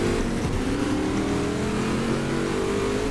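Racing car engine in the video game GT Legends, a loud sustained drone with a rising pitch as revs climb under acceleration, running continuously and alone.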